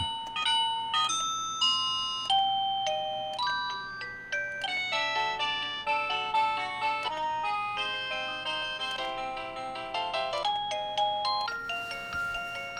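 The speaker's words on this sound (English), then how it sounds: "So if you don't want a regular doorbell ding, if you want maybe music playing or anything like that" A wireless doorbell runs through several different chime tones, bright ringing melodic notes played one after another in quick sequence over a faint low hum, with no talking.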